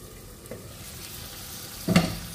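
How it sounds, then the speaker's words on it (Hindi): Desi chicken fries in a covered pan over a medium flame, giving a steady close sizzle with a louder clatter of stirring or a lid near the end, and no talking. "इसे हम ढककर फ्राई करेंगे, क्योंकि ये देसी चिकन है तो इसे पकने में थोड़ा टाइम लगता है।"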